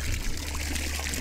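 Hot water runs steadily from a garden tap in an apartment building, a continuous close splashing and trickling stream with no voices.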